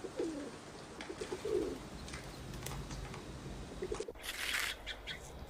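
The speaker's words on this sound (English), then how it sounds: "A pigeon eats grains." A pigeon gives soft, low coos in a couple of short phrases, faint and close, followed by a brief chirpy burst against quiet background noise.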